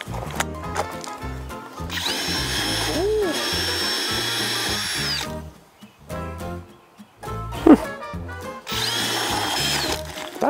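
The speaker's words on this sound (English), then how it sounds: "Where's the drill?" A power drill runs in long sustained whirring bursts while fixing an RV roof, stopping and restarting with brief pauses and some clatter in between.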